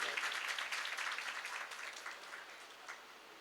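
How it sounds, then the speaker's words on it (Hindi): Audience clapping at a spiritual lecture workshop in Dhamtari, a dense, steady patter of many hands that stays moderately loud and slowly tapers over a few seconds, with no talk over it. "सभी के लिए एक बार जोरदार ताली बजाइए।"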